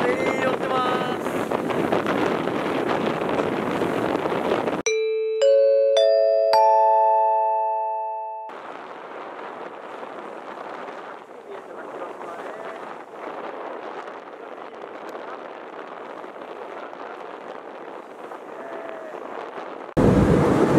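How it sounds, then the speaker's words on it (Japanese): Ferry crossing to Miyajima: steady wind buffets the microphone over engine and water rumble, broken midway by a clear electronic chime melody from the ship's announcement system, then the wind-blown rumble returns. "今からフェリーに乗って宮島に行って"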